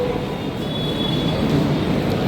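Steady rumble of a train at Churchgate station in Mumbai, with continuous low-frequency noise, a faint high whine, and metallic rail sounds throughout.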